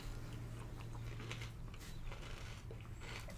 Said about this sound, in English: I feel like I'm chewing too loud into the mic.